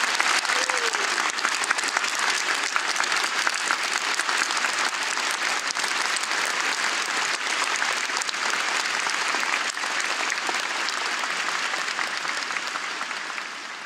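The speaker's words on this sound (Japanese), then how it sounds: "皆さんに熱い拍手をお願いします。" Loud, dense applause fills a concert hall at a live show, continuous and even throughout before easing off slightly at the very end.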